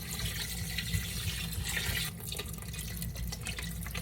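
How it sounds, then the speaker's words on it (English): Water and beef broth, sixteen cups in all, pour into a cooking pot for quesabirria, a steady close gushing stream that lasts throughout without pause. "Now we're gonna go ahead and add 16 cups of liquid. I like to do half water, half beef broth."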